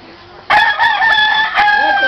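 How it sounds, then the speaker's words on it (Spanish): A rooster crows loudly and close by, one long drawn-out call that begins abruptly after a quiet moment. "Que venga Beto para que se retraten ustedes con un gallo"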